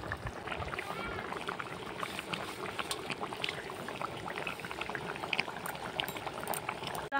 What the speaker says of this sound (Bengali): তরকারিটা আমার ফুটছে দেখো কেমন